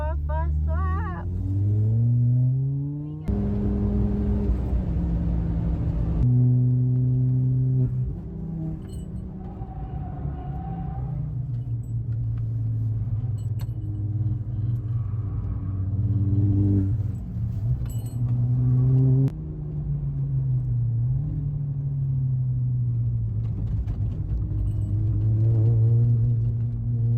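A Ford Fiesta ST track car is driven hard around the Nürburgring, with a loud in-cabin engine drone that climbs through each gear and drops at every shift, repeating over the lap, with a voice speaking over it.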